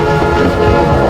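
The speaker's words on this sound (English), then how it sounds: "go down here and you'll hear a train coming" An approaching train in the sewers of the Spider-Man (2000) video game gives a loud, dense rumble with tonal layers, continuous over its short span.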